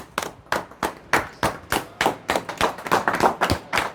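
A doctor claps his hands about a dozen times in a steady, moderately quick rhythm in a clinic setting beside a spinal cord injury patient, sharp close claps with no speech.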